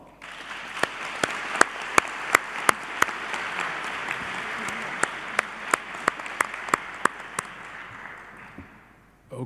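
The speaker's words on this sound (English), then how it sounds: "I think that calls for an applause" Audience at a live event claps steadily for several seconds, with a few sharp, loud individual claps standing out above the crowd before it tapers off.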